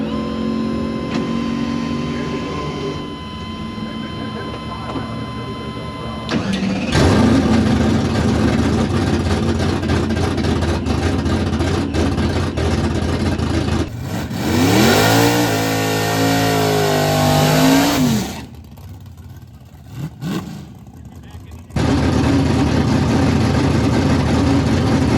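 A drag race car at a no-prep Show and Go event at BIR starts and revs hard for a test pass, with a loud sustained engine roar, a brief lull, another surging rev, then a drop to near quiet before the engine returns loudly.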